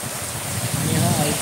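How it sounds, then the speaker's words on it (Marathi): Dense heavy rain pours steadily in a Konkan monsoon downpour, a close, continuous wash of noise that grows slightly louder toward the end. "जोराचा पाऊस"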